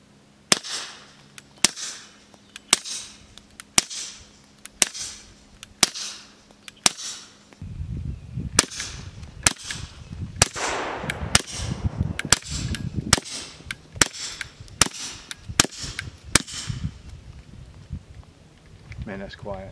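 Suppressed gunshots fired through Liberty Infinity X and Mystic X suppressors: about sixteen sharp, dry cracks spaced roughly one per second outdoors, mid-loud and close, with wind noise rising partway through.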